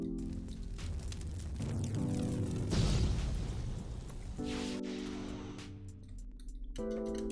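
Bakugo's Howitzer Impact explosion quirk in the video game Heroes Legacy, a booming blast that swells and rumbles over a sustained background tone before fading out.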